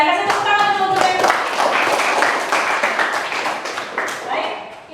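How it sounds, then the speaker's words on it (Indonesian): A classroom of students clap their hands in a sustained burst of applause lasting several seconds, loud and dense, with some voices mixed in. "Kasih tepuk tangan untuk Mercy."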